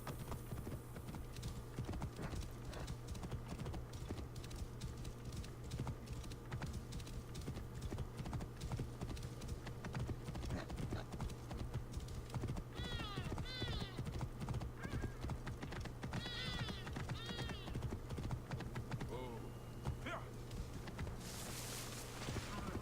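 Hooves clip-clop steadily from a galloping horse in Assassin's Creed Origins, with repeated neighs and whinnies rising partway through over a low game hum and faint talk.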